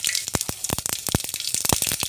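Mustard seeds popping and crackling in hot oil in a pan, a dense run of sharp close pops and spits over a steady sizzle for about two seconds.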